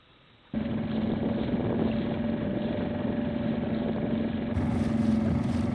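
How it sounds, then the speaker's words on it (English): A small dinghy outboard motors around Montague Bay on a windy day. It starts abruptly after a brief quiet moment, then holds as a steady, close, droning engine hum with wind buffeting the microphone and water rushing beneath. "I'm just out on the dinghy taking a cruise around Montague Bay here."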